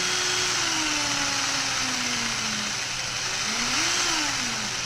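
A small engine runs on a DIY Speeduino ECU test bench, holding a steady loud drone while its pitch rises and falls in slow revving sweeps, capped below about 3000 RPM, with no talk.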